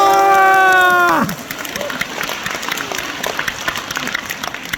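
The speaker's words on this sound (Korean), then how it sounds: "감사의 의미로 이분들께 큰 박수 한번 부탁드리겠습니다." Audience applause fills a hotel event hall, dense and steady after a brief musical chord fades at the start, with some crowd noise mixed in.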